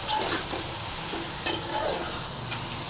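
Bitter gourd tamarind gravy stirred and fried in a pan, a steady close sizzle with scraping strokes of a spoon and a brief clack midway.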